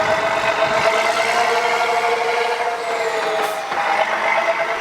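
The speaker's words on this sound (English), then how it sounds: "replaced by an exhaust system made of stainless steel with a corresponding tinny sound." A Steyr 12M18 military truck's engine runs with a stainless steel exhaust, giving a steady, loud, somewhat tinny droning rumble close by, with a brief hiss partway through.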